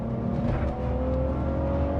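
BMW 325ti Compact E46 engine pulling in second gear from about 2,000 rpm, a steady, loud, droning hum with a rising tone as revs climb, no voices.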